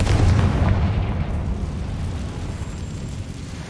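In the video game Hogwarts Legacy, a Confringo explosive spell lets off a loud booming blast that fades into a sustained rumbling roar, heavy and close, with no talk.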